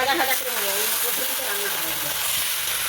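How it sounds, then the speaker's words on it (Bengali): Chicken pieces frying in spiced oil with whole garam masala and potatoes in a pan over a wood-fired clay stove, giving a steady close hiss and sizzle throughout, with faint voices in the background. "চিকেনটাকে খুব সুন্দর করে ফ্রাই করে নেওয়া হবে"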